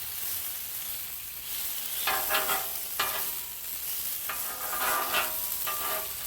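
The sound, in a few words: bacon sizzling on a Blackstone griddle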